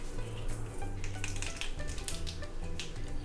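Mustard seeds popping in hot oil, with quick sharp crackles and sputters scattered over a soft sizzle and a low background hum.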